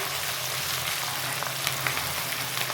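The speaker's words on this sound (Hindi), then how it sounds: "लहसुन अदरक को तकरीबन 5 मिनट तक भूनना चाहिए।" Garlic ginger paste frying in a pan, a steady close sizzle with soft crackles throughout, no voices.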